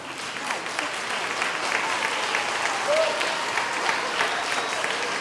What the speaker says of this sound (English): let's give these 5th graders a round of applause